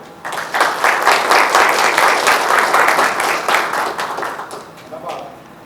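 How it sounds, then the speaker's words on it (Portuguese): A room of attendees at a professional accountants' event breaks into a round of applause, dense clapping that rises quickly, holds for several seconds, then gradually dies away. "Peço a salva de palmas, Marcos Alexandre."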